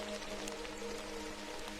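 Steady rain falls in a dense, even hiss of droplets pattering on surfaces, constant and unbroken throughout at moderate loudness, with no voices.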